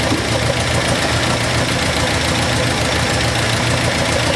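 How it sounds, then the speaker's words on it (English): A four-cylinder engine runs steadily while its fuel mixture is tuned, idling loud and close with an even, slightly knocking rumble that continues without a break. "The motor is calming down quite a bit already."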